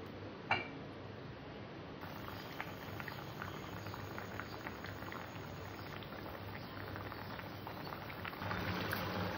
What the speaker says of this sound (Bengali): এবার তরকারিটিকে আমি ভালো করে ফুটিয়ে নেব